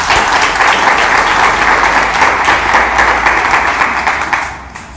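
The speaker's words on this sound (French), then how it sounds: "Acclame Jésus-Christ." A church congregation applauding and clapping for Jesus Christ, a dense loud burst of many hands close by, sustained for several seconds before tapering off at the end.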